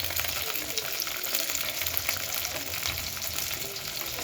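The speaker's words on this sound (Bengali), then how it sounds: "এই লঙ্কাগুলো রসুনগুলো ভেজে নেব, টমেটোগুলোও ভেজে নেব" Tomatoes, garlic and chillies sizzle steadily in a hot pan for begun bharta, a close, continuous crackling fry with a low bubbling undertone and no one speaking.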